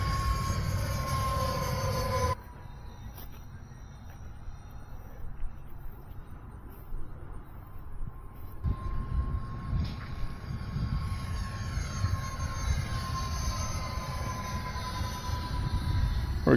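E-flite F-14 40mm twin EDF model jet flying at half throttle, a continuous whining jet roar with a steady tone that dips briefly, then rises and varies as the plane passes, heard outdoors without talk.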